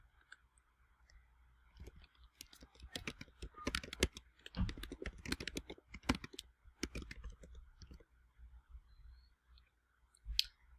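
Someone types a return address on a computer keyboard, close and fairly soft key clicks in irregular bursts, with quieter gaps between runs of keystrokes.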